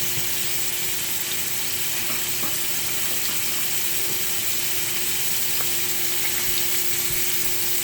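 Scallops frying in oil in a pan, a constant close sizzle and crackle with a few faint clicks and stirring touches, steady and unbroken throughout.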